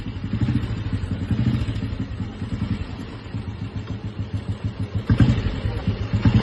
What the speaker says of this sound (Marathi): झाली फायनली बुलेट चालू झालेले.